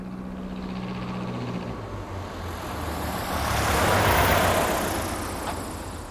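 A small plane comes in on a dirt airstrip, its engine drone swelling louder as it nears and passes close, with rough broadband rumble and rushing noise, then easing slightly toward the end.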